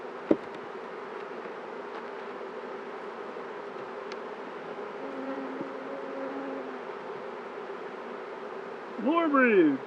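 Honey bees hum in a steady, dense drone while a full beehive is opened and inspected, the buzzing continuous and close, with a brief sharp knock early and a louder passing buzz near the end.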